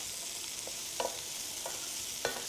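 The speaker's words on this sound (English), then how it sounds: "Now at this stage I'll put my garlic in and fry it off a little bit with the vegetables." Garlic frying with chunky cut vegetables including onions and capsicum in a pan for a ratatouille stew, a steady soft sizzle with a few brief stirring scrapes.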